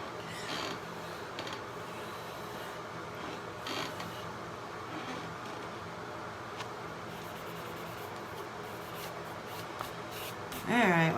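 Steady breathy blowing across an alcohol ink painting, a soft continuous rush of air held close for several seconds, with a brief voice near the end.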